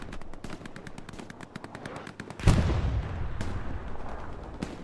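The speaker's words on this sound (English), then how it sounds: "With the hip fire with the MG." Machine gun hip-fired in Hell Let Loose during a competitive match: a rapid, steady burst of shots, then a heavy blast and sustained rumble with further scattered cracks, loud and close.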